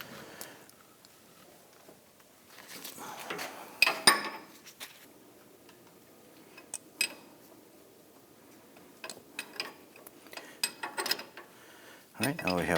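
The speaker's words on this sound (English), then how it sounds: "we have three 15mm bolts, and we're going to use our 15mm wrench to go ahead and loosen these" A 15mm wrench loosening bolts on a 2006-2010 Hummer H3 front steering knuckle, heard as faint scattered metallic ticks and clanks at close range, with a louder clank near the end.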